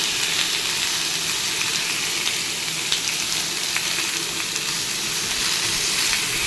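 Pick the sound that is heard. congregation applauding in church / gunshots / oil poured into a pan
oil poured into a pan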